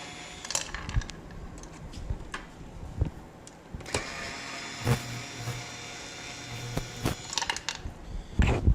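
Screws being removed from the housing of a T1 floor scrubber, heard as a series of close, sharp clicks and brief whirring bursts from a powered driver, separated by quiet pauses.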